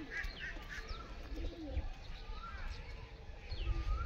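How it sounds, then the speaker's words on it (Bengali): Pigeons coo softly as they are released from their coop, low murmuring calls drifting at a distance, faint against background noise, while someone speaks nearby. "তো কবুতরগুলোকে ছেড়ে দিলাম, এবার বার হবে সব কবুতরগুলো।"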